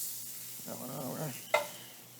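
Food being stirred in a cooking pan, a short scraping swirl of the spoon over steady low sizzling, followed by one brief sharp clink.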